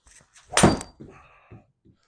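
A golf ball struck with a 7 wood on the Torrey Pines South course, heard as a single sharp, close thwack followed by a few softer knocks.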